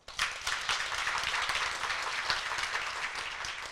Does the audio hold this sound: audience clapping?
yes